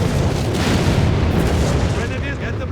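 Artillery barrage explosions thunder in Company of Heroes 3, a dense, continuous rumble of booms and bursts filling the battlefield with voices faintly mixed in.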